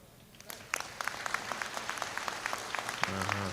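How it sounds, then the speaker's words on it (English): A handful of people clapping at a political rally, scattered and uneven, the claps sparse and fairly near, with faint voices murmuring in the background. "6 people are clapping"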